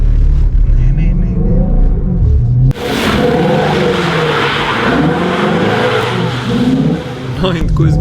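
Ford Mustang GT350R drifting on a race track, its engine revving hard and rumbling loudly close by, shifting abruptly into a harsher, roaring tone midway, with someone talking over it.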